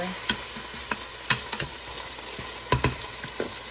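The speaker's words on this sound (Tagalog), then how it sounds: "Nasunog na ang patatas. After sunugin ang patatas, ilagay na po natin" Potatoes frying in a pot for corned beef stew, a continuous close sizzle broken by sharp clicks and scrapes of stirring at irregular intervals, with no voices over it.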